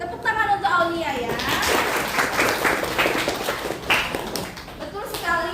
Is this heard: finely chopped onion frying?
no